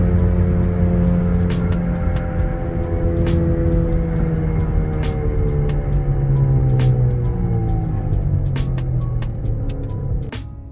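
A worn left front wheel bearing on a moving car, a loud steady low droning hum with a rising and falling whine under road and engine noise, with scattered sharp ticks.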